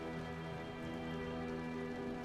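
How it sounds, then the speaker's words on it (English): Heavy rain pours steadily in an anime scene on a muddy road, a dense continuous wash of noise with low rumbling undertones, no voices. "The heavens open up, and heavy rain begins to fall."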